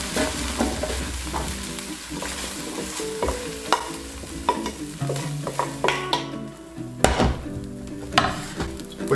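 Wild boar meat sears in a hot oiled pan, a loud crackling sizzle broken by wooden stirring knocks and scrapes, with a brief lull before the sizzle surges again, close up and without talk.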